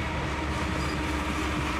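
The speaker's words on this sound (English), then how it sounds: "It is a town where you sit and watch the train go by." A train rolls through the small town of Bell Buckle with a loud, steady, continuous rumble of wheels and railcars, close by and with no talk over it.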